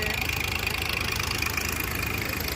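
Large heavy motors pumping water at night on the Amaravati Iconic Towers construction site, a constant throbbing engine drone at close range, steady and loud without a break.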